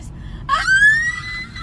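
A short high-pitched scream bursts out after a brief pause, a sharp rising squeal that holds for under a second, loud and close, over a low background murmur.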